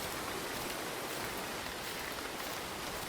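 Rain falling in the survival game Ember's Verge, a steady, even hiss of downpour at low level with no breaks and no speech.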